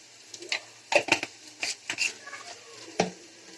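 Onions sautéing in a pan for a pirandai thuvaiyal, with a faint sizzle beneath a series of irregular clinks and scrapes from a spoon stirring against the pan.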